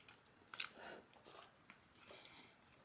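Crunchy freeze-dried grapes are bitten and chewed close to the ear. A few soft, brittle crunches and small cracks are spread over a quiet background, with no speech.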